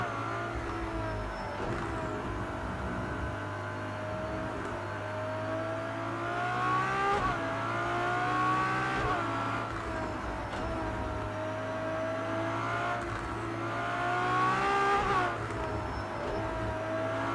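A LaFerrari screams through the Nürburgring in Project CARS 2, its engine revving continuously for the whole stretch, pitch climbing and dropping in repeated sweeps as gears change, loud and steady with a low droning undertone.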